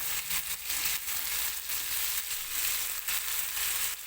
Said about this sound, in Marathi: कमी तेल टाकलेलं आहे आणि कमी तेलाचं जातं फ्राय करून घेते मासा आता